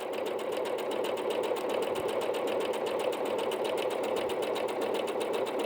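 Bernette B-77 sewing machine running a long continuous line of stitching, a steady fast needle chatter with an even motor hum throughout, close and unbroken.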